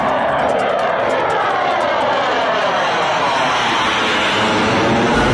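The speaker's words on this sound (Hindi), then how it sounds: "गरजते रहे फाइटर जेट।" Indian Air Force aircraft roaring in the sky over Prayagraj, a loud, sustained engine rumble overhead with a slowly shifting pitch as it passes.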